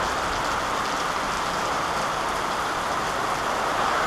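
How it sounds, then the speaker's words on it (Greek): Steady wind and rain during an outing with a fisherwoman, a dense unbroken hiss of rainfall on surfaces with gusting air, constant and fairly loud throughout with no voices. "Αέρα και βροχή, ε."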